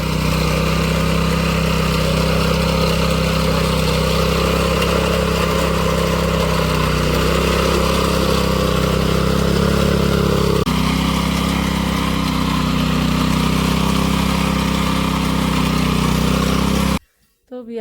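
A tractor engine runs continuously close by in a rural farm setting, a steady, loud mechanical drone that holds level before cutting off abruptly just before the end; a voice may speak faintly over it.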